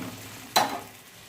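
Masala paste of ground chilli and tomato with salt, turmeric, sugar and water frying in a pan, with a steady low sizzle and one sharp burst of stirring partway through.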